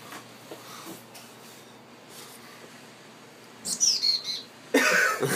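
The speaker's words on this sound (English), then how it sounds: "Oh, bird's out of control." A bird loose inside a car service office gives a few sharp, loud chirps and squawks near the end, over a low room hum with faint movement and brief human throat sounds earlier.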